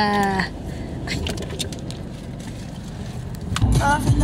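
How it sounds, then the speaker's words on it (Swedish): Steady engine rumble and road noise inside a moving car, with people talking and brief squeaks and clicks over it. "nu sitter vi i bilen."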